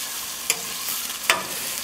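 Eggplant sizzles on a BBQ grill, a steady close hiss with two sharp crackling pops breaking through, no voices.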